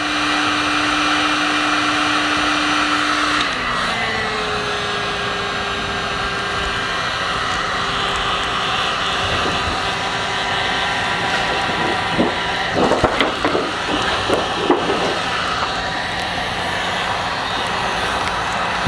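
A heat shrink-wrap machine wrapping sneaker boxes in plastic gives off a steady loud mechanical hum whose pitch shifts partway through, with a burst of rustling and clattering near the end.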